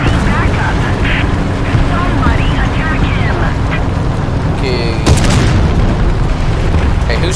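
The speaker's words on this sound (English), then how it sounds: "That was artillery fire." Artillery fire in the War Thunder video game, a loud booming blast with a rumbling low roar and a sharp burst partway through, heard alongside someone talking over the game sounds.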